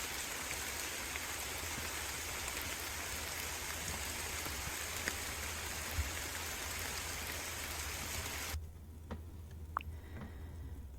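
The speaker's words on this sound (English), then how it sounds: "I like that rain in the woods." Steady, dense rain falling in the woods in the game MoonVale, close and continuous with a few soft ticks, cutting off abruptly near the end to leave only faint ticking.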